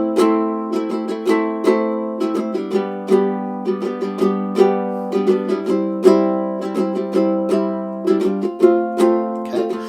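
Baritone ukulele strummed in a steady, rhythmic chord pattern, each stroke bright and ringing, played solo and close with no voices.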